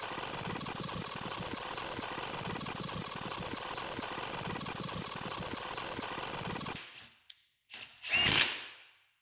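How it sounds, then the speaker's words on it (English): A Milwaukee M12 3/8-inch drive cordless impact wrench runs bolts into a Ford NP273 transfer case, a loud continuous hammering rattle for nearly seven seconds, then stopping, followed by a few short clicks and a brief burst. "this Milwaukee M12 3/8 inch drive impact is one of my go-to tools. It made short work of all 25 of these bolts."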